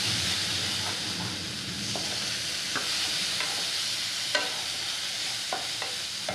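A spice paste of green chilli and chilli powder sautés in a pan for a pomfret curry, giving a continuous sizzle with scattered soft scrapes and taps of a stirring spoon.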